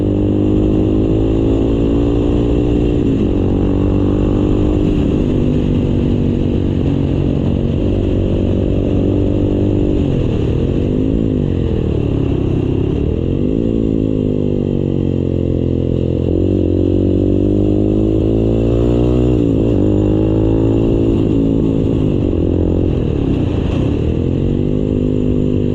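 A motorcycle engine runs steadily and loudly close by, its throttle rising and falling in rough waves with no pause throughout.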